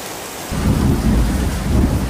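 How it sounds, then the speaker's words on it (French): A thunderstorm with heavy rain over a race track in Indonesia, a deep rumble of thunder swelling in over a loud, steady downpour, close and without talk. "tous les jours il se met à pleuvoir comme ça. Tous les jours. Oh, c'est une tempête."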